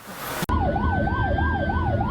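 An ambulance siren wails close and loud in a rhythmic rising-and-falling pattern over road noise, starting abruptly after a brief muffled moment.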